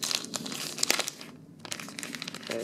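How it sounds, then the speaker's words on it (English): Plastic packaging of a phone flip case crinkling and crackling as it is opened, irregular close-up rustles and sharp crunches with a brief lull midway. "If I just open up the packaging."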